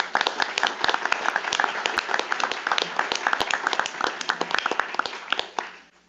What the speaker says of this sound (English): give the women who helped to make OUC one of the leading municipal utilities in this nation a round of applause?